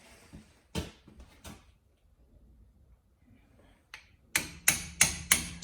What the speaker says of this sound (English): get my hammer, tap it in a little bit with my extension and my socket